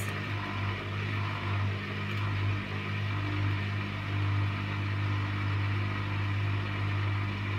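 An Indesit washing machine on its final spin at 1600 rpm gives a loud, steady whirring hum with a strong low drone. It runs unbroken for the whole stretch with no voices.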